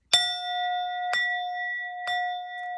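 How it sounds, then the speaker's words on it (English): A sound bell struck three times at roughly one-second intervals, each strike a bright metallic clang whose clear ringing tone sustains and overlaps the next, close and loud. "It's where you hit the bell, the sound bell."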